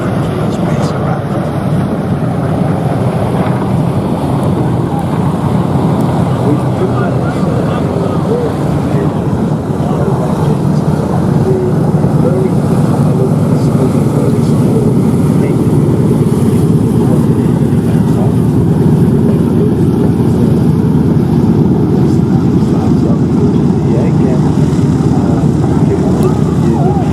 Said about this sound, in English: the P-38, the twin boom wonder, whispering wonder, was equivalent to a spacecraft